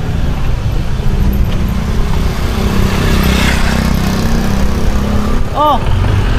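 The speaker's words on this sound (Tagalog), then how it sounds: "Pasok ko na lang siguro yung motor." A motorcycle engine idles and putters steadily close by as the bike is brought in along a neighborhood street, a continuous low drone with a brief chirp near the end.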